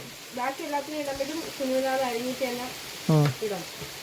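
Ginger and garlic fry in hot oil for a Kerala village-style sardine (mathi) fish curry, giving a faint, steady sizzle beneath a person talking throughout.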